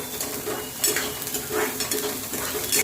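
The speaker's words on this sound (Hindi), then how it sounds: "ऑनियंस को सिर्फ ट्रांसपेरेंट होने तक पकाएंगे हम।" Finely chopped onions frying and being stirred in a pan for aloo fry, a steady close sizzle with repeated scraping strokes of a utensil across the pan.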